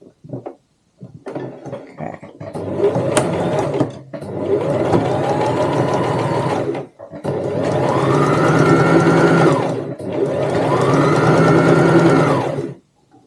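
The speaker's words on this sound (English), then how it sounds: "I am going to be sewing from the right side." A sewing machine runs along the edge of a fabric tote bag in four loud, close bursts of rapid stitching, separated by short pauses.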